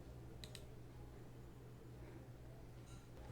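A couple of sharp mouse clicks near the start over a steady low hum, followed by a faint click or two close to the end, all very quiet and with no voices.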